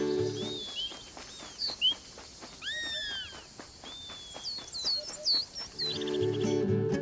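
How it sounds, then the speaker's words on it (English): Birds chirp and whistle in short rising and falling calls within Alba: A Wildlife Adventure, over a soft patter of footsteps, with a few calls near and clear and others faint. "you hear only your footsteps and the calls of the types of birds that surround you"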